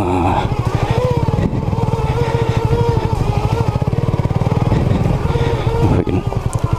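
A Honda CB250RS single-cylinder motorcycle rides a wet, muddy green lane. Its engine is held at steady high revs with a close, throbbing note that dips briefly a couple of times, and a voice speaks faintly under it.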